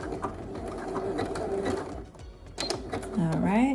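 A sewing machine back stitches a dress shoulder seam in quick, close bursts of needle chatter with a brief pause, while a person speaks over it.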